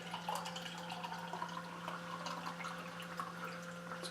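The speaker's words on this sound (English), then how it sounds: "let's pour our first spotted cow out of this keg" Spotted Cow beer pours from a keg line into a glass, a soft continuous splashing and trickle over a steady background hum, with no talk.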